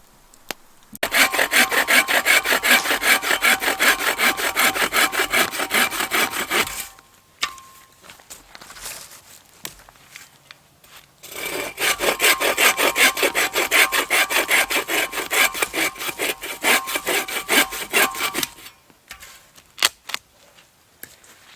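A handsaw cuts through firewood at a winter camp for a hot tent, in two long bursts of steady back-and-forth rasping strokes with a short pause between them and silence after.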